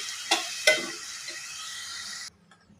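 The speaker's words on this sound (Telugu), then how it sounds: "మీడియం సైజు రెండు ఉల్లిపాయలు తీసుకున్నాను నేను కొంచెం వేగనంగా ఒక నిమిషం పాటు వేసుకోవాలి" Chopped onions, two medium ones, sizzle in a hot pan with a steady hiss, broken by two sharp stirring scrapes early on, then the frying noise cuts off abruptly into near silence.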